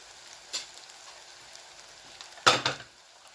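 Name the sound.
onions frying in a pan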